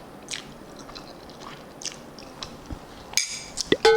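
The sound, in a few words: eating butter tadka Maggi noodles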